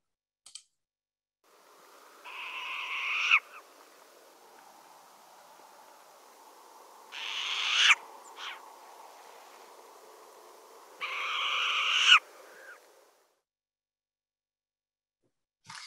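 Three bursts of owl calls, a pair of owls seemingly answering each other, loud and close over a faint steady background hiss, with quiet gaps between.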